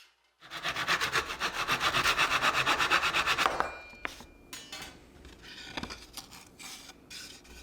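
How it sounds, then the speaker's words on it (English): A saw cuts through a 1/4 inch piece of maple and a 3/8 inch piece of walnut in about a dozen quick, even back-and-forth strokes, followed by quieter clatter and knocks of the wood being handled. "I'll cut a piece of 1/4 inch maple and 1 piece of 3/8 walnut"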